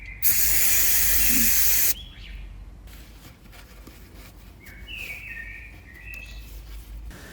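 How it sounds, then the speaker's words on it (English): Aerosol brake cleaner sprays onto a 2018 Vespa GTS 300 during a service in one loud, steady hiss lasting about a second and a half. It stops abruptly, leaving quiet outdoor air with birds chirping now and then. "use some brake cleaner and wipe the area clean"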